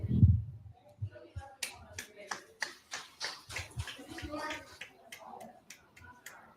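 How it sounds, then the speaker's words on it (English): A single person clapping along to talk, a steady run of sharp, evenly spaced claps cutting through speech, fairly close and moderately loud. "She gets a round of applause today."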